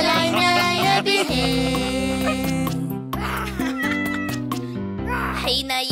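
Cartoon cat meows in an Arabic children's song, most likely voiced by a singer imitating a cat, repeating over loud, bouncy backing music with sung vocals throughout.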